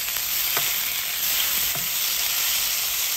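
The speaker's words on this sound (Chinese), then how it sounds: "倒入腌制好的牛肉，翻炒至牛肉变色" Marinated beef stir-fried with garlic in a hot wok for beef chow fun, a loud, dense sizzle with a few sharp spatula clacks and tosses, alone and without voices.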